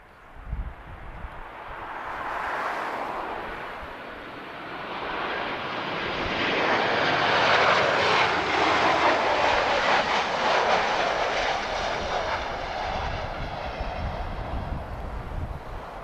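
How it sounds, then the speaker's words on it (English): A Ryanair jet airliner arriving from Vienna lands at Lisbon Airport with a loud, broad roar that swells and holds steady through the clip, with no talk. "spirited arrival from Ryanair there"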